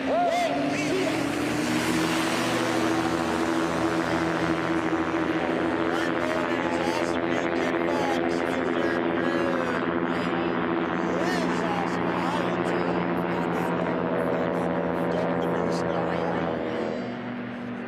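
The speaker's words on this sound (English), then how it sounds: "if that engine sounds a little different in the number 2 lane, the Stol Fox, the Black Kit Fox, he's running one of these Yamaha snowmobile engines" Engine of a small race aircraft, one fitted with a Yamaha Apex four-cylinder snowmobile engine, at an air race. A loud, steady, close engine drone holds throughout, then fades slightly near the end.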